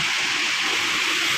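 Steady rushing water fills an underground tunnel in Quezon Province, a dense, even hiss with no breaks, loud and close, no voices over it.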